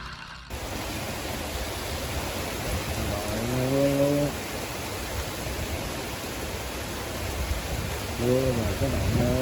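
Steady rain pours down during a snakehead fishing outing at Tân Phú Đông, Tiền Giang, a loud continuous hiss with a few faint distant animal calls mixed in.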